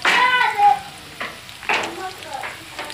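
Potato chips and chicken nuggets frying in hot oil, a close sizzle with bursts of stirring scrapes and crackle coming in uneven waves, fading between stirs.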